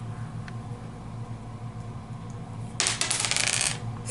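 Dice re-rolled during a Shadows of Brimstone board game, a short clattering burst near the end over a steady background hum, without speech.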